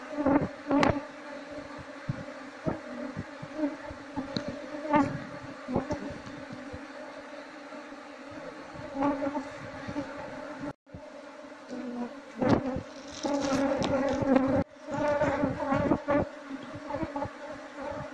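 A swarm of wild honey bees drones and buzzes continuously, loud and close, with individual insects flying past the listener in rising and falling passes, no talking.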